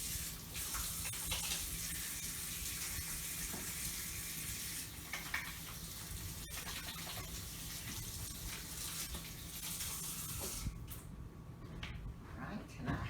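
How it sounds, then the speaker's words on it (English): A tap runs as hands are washed beneath it, a steady close hiss of flowing water with brief splashy bursts, then the flow cuts off near the end. "I'm washing my hands"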